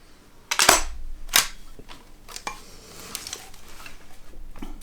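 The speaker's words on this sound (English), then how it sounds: "and open the gun" A TOZ T034-EP break-action shotgun is opened, giving a few sharp metallic clicks and clacks close up, with the loudest snaps in the first two seconds and softer handling noises after.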